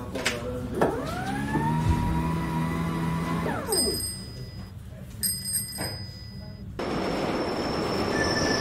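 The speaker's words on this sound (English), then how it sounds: "Train station or railway station." A train passes through a railway station, its wheels squealing in long drawn-out tones, with bell-like chimes sounding partway through and a broad rumbling wash of noise near the end.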